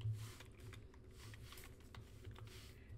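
Soft, fast clicking of a computer keyboard being typed on, quiet and close against a low steady background hum.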